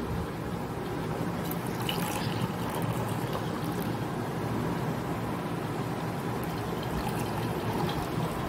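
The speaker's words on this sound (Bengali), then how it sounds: "আর এই যে চা, তিনজনের চা একটু ঢেলে নিই।" Tea is poured from a pot into three cups, a continuous liquid trickle and gush close by, steady and fairly loud with faint background noise.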